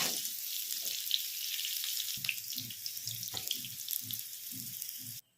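Jackfruit pieces fry in hot oil, a continuous close crackling sizzle with bright spatters and a few soft knocks, heard alone until it cuts off abruptly at the end.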